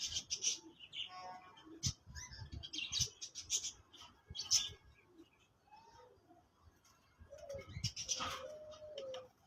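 A pigeon held in a breeder's hand gives soft coos and chirps, close and intermittent, with brief rustles between calls and no talking.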